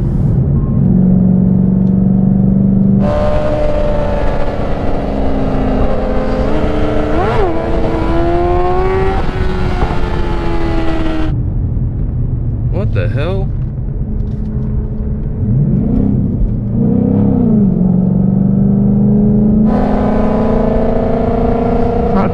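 A Ford Mustang GT engine roars loud and close as it accelerates hard through repeated rising gear pulls with brief dips between shifts, while voices talk over it.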